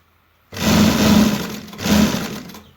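A sewing machine stitches a sleeve onto a baby boy's kurta in two close, loud bursts of humming motor and needle chatter, separated by a short dip.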